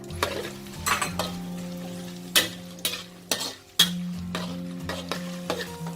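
Pounded garlic frying in hot oil in a pan on medium heat, a steady sizzle broken by several loud scrapes and clinks of a utensil stirring against the pan.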